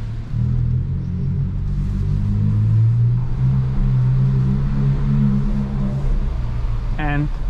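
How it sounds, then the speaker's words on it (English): Hyundai i20 N (2022, 204 hp) with exhaust valves open in N mode, a steady low engine and exhaust rumble heard from inside the cabin while driving at night, continuous throughout, with a short brief sound near the end. "Just by hearing this car, I think people are expecting to see something much more exotic"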